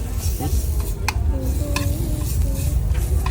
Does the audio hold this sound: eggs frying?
yes